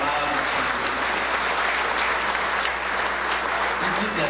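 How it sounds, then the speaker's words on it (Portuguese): Steady, dense applause from a congregation at a church service, filling the room evenly for several seconds without a break. "Vamos aplaudir a poderosa palavra de Deus"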